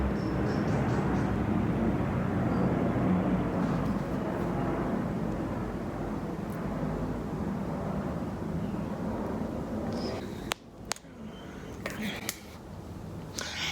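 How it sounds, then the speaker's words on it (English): An airplane passes overhead as a steady, broad, distant roar that slowly fades, followed by a few brief knocks near the end, with no talk. "That's an airplane."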